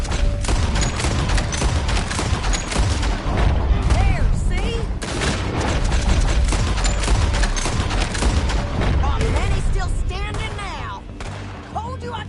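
Dense video game gunfire, rapid overlapping shots and booms in a continuous fusillade, loud and close, with voices speaking over the battle.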